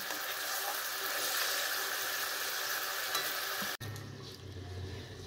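Pot of bhola fish curry bubbling at a boil, a dense continuous hiss and simmer that cuts off abruptly, giving way to a quieter low rumble with faint bubbling; no talk.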